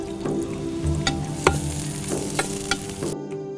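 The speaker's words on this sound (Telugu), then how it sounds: "పచ్చిమిర్చి వేసానండి, ఉల్లిపాయలు వేస్తున్నానండి." Green chillies and onions fry in hot oil, a close sizzle punctuated by several sharp spatula clinks and scrapes, before the sound cuts off abruptly at the end.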